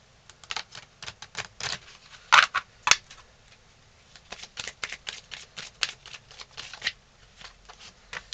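Oracle cards from an Everyday Witch clarifier deck are shuffled by hand in a quick run of soft riffling flicks and slaps, with two sharper snaps near the middle, close and alone.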